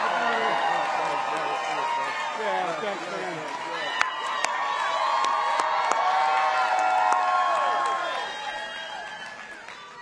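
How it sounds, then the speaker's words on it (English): A large crowd at an evening campaign rally in Winston-Salem, North Carolina cheers, whoops and applauds loudly and continuously, with voices shouting over the noise. "Give them a big round of applause."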